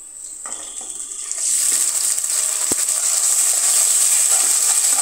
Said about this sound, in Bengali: এখন প্যানে আমি পেঁয়াজ আর কাঁচামরিচ আর তেল দিয়ে দিলাম।